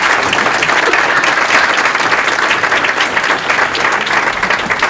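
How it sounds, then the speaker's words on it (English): Sustained, dense audience applause fills the room at a community dinner, loud and steady throughout with no pauses. "Let's give one more round of applause for Mr."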